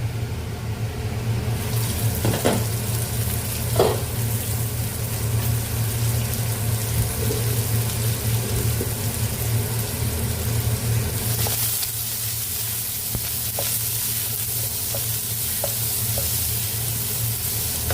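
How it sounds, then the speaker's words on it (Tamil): Chopped onion hits hot oil in a pan with a burst of sizzling, then keeps up a steady, close frying hiss while occasional scrapes and clicks of stirring sound through it. "சாப் பண்ணி வச்ச வெங்காயம் போட்டுடலாம்."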